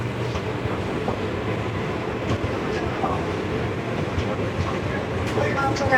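The Jagannath Express runs from Shalimar to Puri after leaving Mechheda, heard from inside the carriage as a loud, steady rumble with faint rhythmic rattles and clacks, under a murmur of voices.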